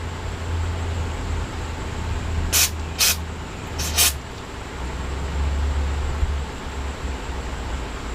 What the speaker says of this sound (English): We'll go ahead and give it a little spray.